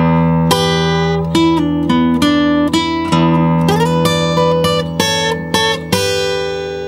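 Electric blues guitar licks in E ring out alone, a run of plucked notes and bends with sustained tones and short gaps between phrases, clear and close.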